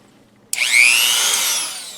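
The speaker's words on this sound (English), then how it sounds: "Blue is my Dremel. And on Blue is a nice little cutting wheel." A Dremel rotary tool fitted with a small cutting wheel spins up with a sharp onset, its high whine rising in pitch and then holding steady, close and loud with no talk.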